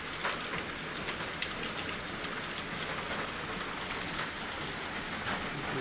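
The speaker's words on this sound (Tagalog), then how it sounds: "ang ulan na to kahapon pa to" Heavy rain on a Christmas morning in the Philippines, a steady dense hiss of drops pounding surfaces that holds even and continuous throughout, with no voices.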